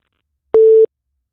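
A single phone-line busy tone after a caller dropped out of a call, one loud steady electronic beep of about a third of a second, heard alone.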